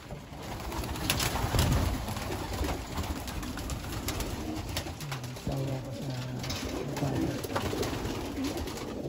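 Pigeons cooing at a De Scheemaeker pigeon center, repeated soft low coos from several birds amid wing flutters and rustling, fairly close with no talk over them.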